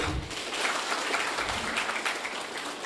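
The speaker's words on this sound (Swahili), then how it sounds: "Tupigie Mungu wetu makofi tena." A church congregation at a parish delegates' meeting claps together in sustained, dense applause that holds steady for the whole stretch, with no talking over it.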